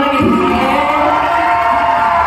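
Festival crowd at a Kaamatan celebration in Kota Kinabalu, Sabah, cheering and whooping loudly and continuously for the whole stretch, a dense wash of many voices.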